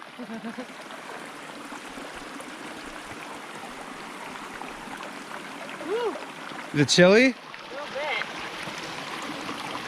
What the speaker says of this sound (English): Came across a nice little stream on the trail.